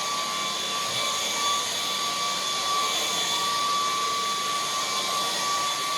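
A K17 battery stick vacuum cleaner runs steadily at high power, giving a constant loud whine with a sharp motor tone over a broad airy rush and no pauses or speech.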